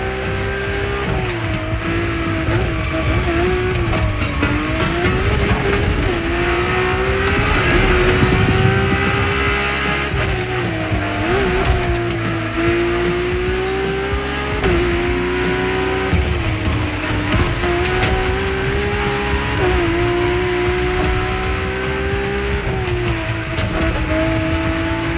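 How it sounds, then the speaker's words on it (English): A powerful drift car in the racing game The Crew Motorfest, its engine droning loudly and continuously for the whole stretch, pitch rising and dipping with repeated acceleration and shifts, with faint tire noise underneath. "Drift car is powerful as hell. With so many horses, they'll try to run wild with every acceleration."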